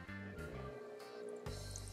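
Hot water pours from a Breville Barista Touch Impress espresso machine's spout into a cup, a quiet, continuous trickling stream under a faint machine hum, with a brief shift in tone partway through.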